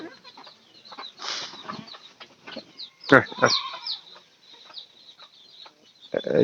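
Chickens with chicks being given feed on a farm, scattered clucks and calls close by, with brief speech and a sharp knock partway through.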